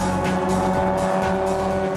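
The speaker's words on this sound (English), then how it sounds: "It sounds like that old Jeep engine has had enough Grand Prix punishment." The old Jeep engine of a scrapheap-built race car, losing power during a Grand Prix, drones as a continuous, close, gritty roar with a steady pitch.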